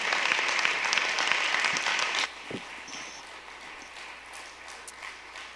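Dense crowd applause at a school food forum fills the first two seconds, then drops off to scattered claps and a quieter room.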